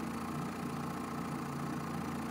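A 50 hp Evinrude E-TEC outboard idles in gear, giving a steady, even drone with a low throb that holds constant throughout, near and fairly loud, with no voices over it.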